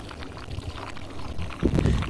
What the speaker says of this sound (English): So just pouring it directly into the skimmer there, and that will distribute it evenly.